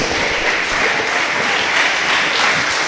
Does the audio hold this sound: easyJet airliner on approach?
no